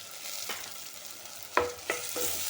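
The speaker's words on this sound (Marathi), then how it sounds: "त्याच्यामध्ये मी आता 2 बारीक कापलेले टोमॅटो टाकते" Finely chopped tomatoes go into a pan of frying onions, with a low, quiet sizzle broken by a few sharp scrapes and clinks of a spoon stirring at close range.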